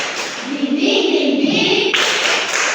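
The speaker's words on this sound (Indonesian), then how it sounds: "Oke, tepuk semangat." A school class performs a rhythmic spirit clap, hands clapping together in a patterned group beat with voices chanting along in the room.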